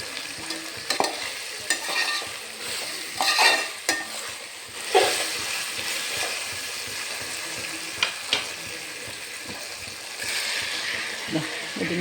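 Chicken curry is stirred in a pan over a steady close sizzle, with irregular scraping strokes and occasional knocks of the spoon against the pan.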